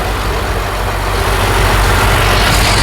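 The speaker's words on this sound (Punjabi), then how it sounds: "ਇੰਜਨ ਦੇ ਟੈਂਪਰੇਚਰ ਵਾਸਤੇ ਤਾਂ ਦੋਸਤੋ ਫੈਨ ਚੱਲ ਰਿਹਾ ਹੈ" A loud, steady whir of a truck's engine cooling fan, blending with the low drone of the idling engine, unchanging throughout with no voices.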